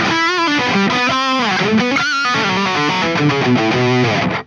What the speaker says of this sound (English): That Friedman HBE module from Synergy is also very promising. It has a very creamy and thick distortion.